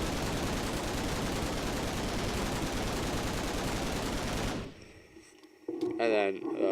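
Rapid gunfire from a gun in the Minecraft FlansMod video game, a dense continuous burst for several seconds that stops abruptly, followed by a short quiet gap and then a voice talking.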